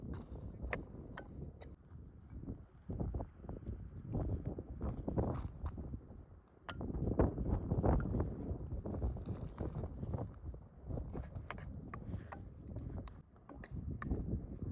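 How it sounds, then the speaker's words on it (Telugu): Strong outdoor wind buffets the microphone in gusty bursts around an open-air clay-pot chicken curry cooking spot. The roar is loud and continuous, rising and falling over roughly fifteen seconds. "గాలి అయితే బాగా వేస్తుంది"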